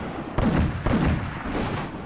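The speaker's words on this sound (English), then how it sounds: "if we use the ray gun to catch this here tree on fire" A ray gun fires twice in Minecraft with the More Creeps and Weirdos mod, two sharp blasts roughly half a second apart, loud and close over a steady background hum.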